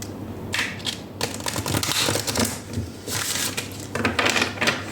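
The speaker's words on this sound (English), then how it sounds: "I'm going to do one more shuffle," Quick bursts of tarot cards riffling and slapping together, several rapid shuffles with short pauses between, close and crisp.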